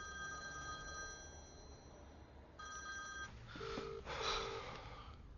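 A telephone rings in a dubbed film scene with bursts of a bright electronic trill, two ring phrases separated by a gap, followed by faint rustling and breathy noises at a low overall level.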